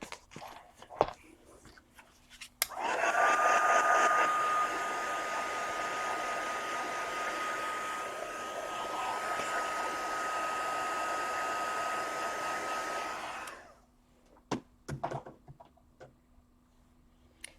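A hair dryer blowing on a still-sticky mixed-media journal cover, a steady loud whirring hum with a faint whine that runs for about ten seconds, framed by soft handling taps before and after.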